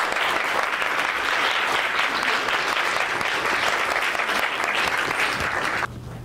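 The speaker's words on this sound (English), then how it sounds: "So please join me giving a round of applause to Professor Bigo." An audience claps for a professor introduced as keynote speaker at an academic lecture: dense, even applause filling the room for about six seconds, then cutting off abruptly to quiet room tone.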